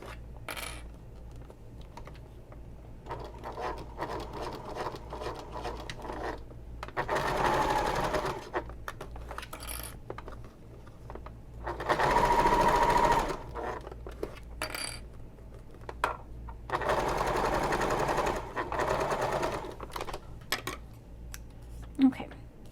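A sewing machine stitches along the edge of a messenger bag in several sustained bursts of steady whirring, with short pauses and light handling clicks between runs.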